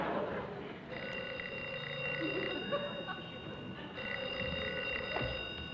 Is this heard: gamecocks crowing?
no